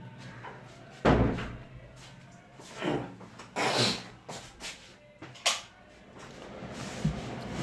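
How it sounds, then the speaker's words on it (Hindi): A door is pushed shut in a classroom, giving a few short thuds and knocks at close range, with no talk over them. "मैं इधर दरवाज़ा बंद कर देता हूँ"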